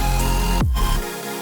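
Supersaw synth chords rendered to audio in FL Studio, a dense, bright sustained chord that swells, then shifts with a sweeping downward drop and continues at a slightly lower level, alone without talk.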